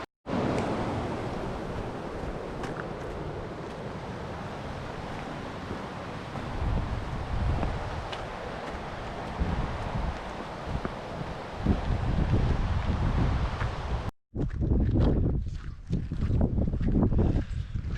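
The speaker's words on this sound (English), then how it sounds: "the wind is still blowing" Steady, gusty wind roaring across an open microphone in Scotland, loud and continuous, with a brief cut near the end before the rumble resumes.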